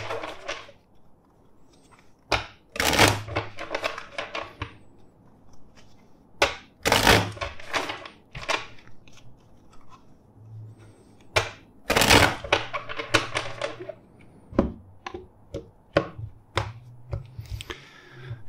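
Tarot cards are shuffled in several quick bursts of riffling and tapping, separated by short quiet gaps, close to the listener.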